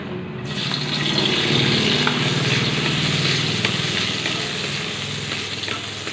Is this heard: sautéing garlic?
yes